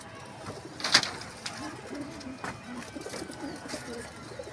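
Newly bought pigeons in a rooftop loft cooing softly, with a few low coos over a steady background murmur and one sharper call near the start.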